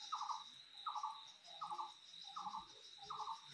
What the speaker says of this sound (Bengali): পাখির একেবারে কিচিরমিচির আওয়াজ